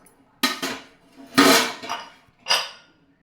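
Mutton biryani being stirred in a metal pot, four distinct scraping clanks of a spoon against the vessel at uneven intervals, close and fairly loud with quiet gaps between.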